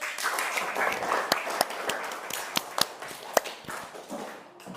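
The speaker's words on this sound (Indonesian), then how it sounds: "Tepuk tangan buat semuanya" Classroom applause from a group of students, a dense patter of many hands clapping steadily with a few sharper claps standing out, moderately near throughout.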